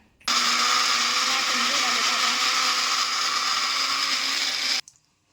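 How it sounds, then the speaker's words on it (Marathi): A kitchen mixer grinder whirs loud and steady for about four and a half seconds, grinding tomato, onion, ginger, garlic and coconut into a paste, then cuts off abruptly. "आता हे पूर्ण वाटून घेते मिक्सरमध्ये"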